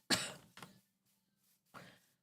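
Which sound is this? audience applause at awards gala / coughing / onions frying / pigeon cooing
coughing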